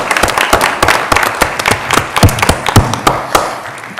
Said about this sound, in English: I'd like to have a round of applause for all those participants